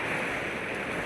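Sea waves at Shrivardhan beach, a continuous broad wash of surf with wind noise, steady and loud throughout the brief moment.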